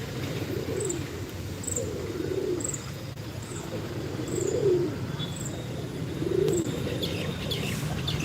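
Pigeons drinking water after feeding coo in soft, low, repeated phrases nearby, while faint regular chirps tick along above them.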